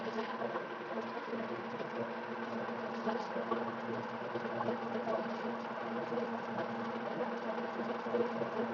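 A motor-driven three-phase alternator set runs in a lab with a steady mechanical hum and whir that keeps an even level, close and unbroken.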